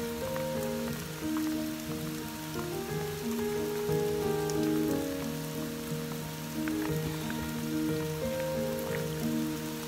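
Heavy rain pours steadily, a dense continuous hiss and patter of drops drumming on a surface, with no voices, in the Corsican mountains near Bavella.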